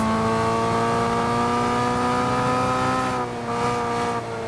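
Honda N360 with stock fourth gear ratio and 5.258 final drive accelerating hard on a circuit, a loud, steady high-revving engine drone that holds pitch, then dips briefly near the end as revs fall with an upshift.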